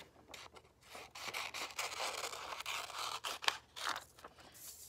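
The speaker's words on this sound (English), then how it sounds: "Cutting away from myself, always turning the paper as I go." Scissors cut paper close up as the paper is turned, giving a run of soft, crisp snips and scraping crunches of varying length that overlap into a fairly steady, quiet rustle.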